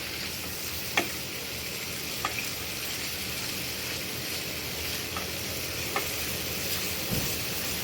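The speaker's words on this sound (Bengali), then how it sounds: "কষায় নেব।" Hilsa fish masala sautéing in a pan, a steady close sizzle and crackle of frying with a few sharp clicks of a spoon scraping through it, no voices.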